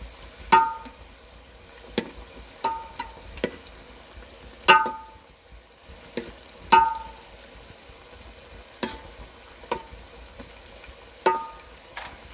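Kangumu half cakes frying in hot oil as they are turned, with a low steady sizzle broken by sharp intermittent clicks and taps from the utensil, close and clear with no talking.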